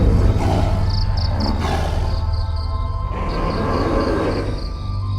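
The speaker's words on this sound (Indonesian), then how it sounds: "Sisi mengeluarkan suara mengerang seperti harimau yang hendak menerkam mangsanya" Deep, strained growl like a tiger about to pounce, sustained and fairly loud, with a low droning undertone and repeated faint high chirps pulsing in the background; no speech.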